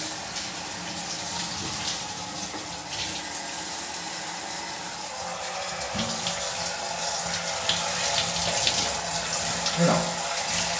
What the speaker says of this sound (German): Dusche an.